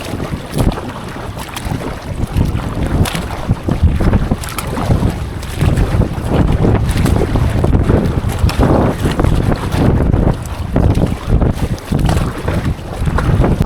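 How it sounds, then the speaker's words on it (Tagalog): A fishing boat speeds across water, its motor droning under heavy wind buffeting and splashing, with bumpy surges as the hull hits waves. "Okay, mabilis tong bangka natin."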